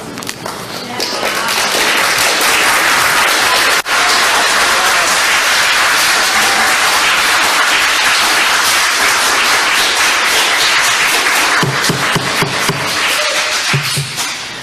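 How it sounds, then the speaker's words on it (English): Sustained, loud audience applause fills a legislative hearing room, dense clapping that runs unbroken for many seconds before tapering at the end. "that we refrain from applause for all future presentations"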